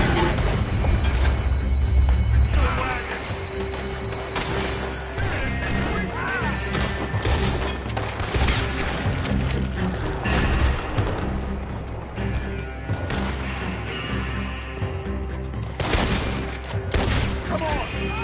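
Gunfire in Red Dead Redemption 2 crackles in dense, rapid bursts alongside booms, with occasional voices shouting amid the loud, continuous shooting.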